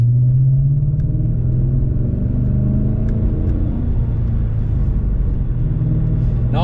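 An MG ZT 260 car engine burbles with a deep, steady low rumble, close and continuous, with no speech over it.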